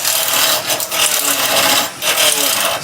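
Wood spinning on a lathe as a gouge roughs a blank down to a cylinder for Christmas tree decorations: loud, close scraping and rasping in uneven bursts with brief pauses, no talk.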